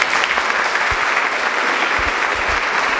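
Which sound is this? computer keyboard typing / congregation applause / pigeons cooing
congregation applause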